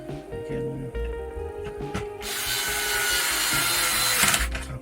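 Power drill driving screws into wood during a pumpkin build, a steady loud whirring drive that starts about midway and runs continuously, with a few knocks and handling sounds before it.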